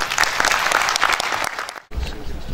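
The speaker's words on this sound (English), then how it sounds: "And you're just clapping like that." An audience applauds at a Quantity Surveyors Registration Board of Nigeria conference session, dense steady clapping from a room of people that stops abruptly, then a voice begins speaking.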